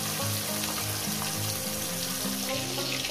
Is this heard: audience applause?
no